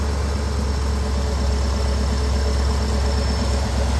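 A car engine idles steadily near 1000 RPM during a test of a Duraspark II ignition module, giving a close, constant low rumble with a faint vibrating buzz and no voices.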